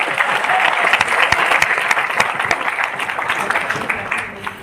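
A crowd at a leadership training seminar claps loudly and continuously, a dense close burst of applause that tapers slightly toward the end with no talking.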